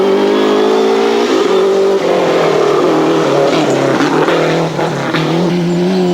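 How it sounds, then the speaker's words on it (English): A comparatively old Lancia rally car takes the start of a stage in the 1996 European Rally Championship, its engine revving loudly and close by with rising and falling pitch, no voices heard. "And Vovos takes the start in now what is a comparatively old car, the Lancia."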